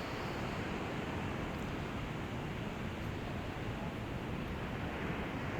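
Steady, unbroken surf rolls against the rugged Sonoma County coastline, a dense wash of breaking waves mixed with wind rumble that stays at an even, fairly loud level throughout.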